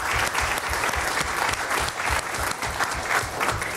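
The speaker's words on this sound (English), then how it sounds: "Let's give them a round of applause." An audience at a school district governing board meeting applauds steadily, an even, continuous wash of clapping hands from many people in a room, sustained throughout without talk.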